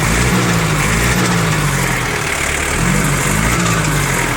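A four-wheel-drive four-cylinder tractor with power steering idles loud and close, its engine running in a steady, even drone with a slight rhythmic pulse and no speech.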